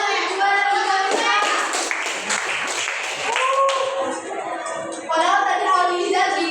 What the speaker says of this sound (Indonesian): ibu tepuk tangan untuk juara 3-nya